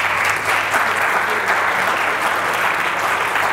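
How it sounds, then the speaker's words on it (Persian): An audience at a talk on creativity and free knowledge applauds a presenter, dense sustained clapping from a roomful of people, loud and even throughout. "تشویقشون بفرمایید."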